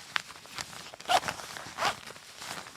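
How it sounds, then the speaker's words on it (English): A plasticky zipper on a Gorewear jacket is pulled in a couple of short, scratchy bursts, close up, amid light rustling of fabric. "I'm worried that I'm gonna like zip my beard into this."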